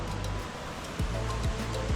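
Water flows through Rastoke village in Croatia as a continuous close rushing wash that stays even throughout.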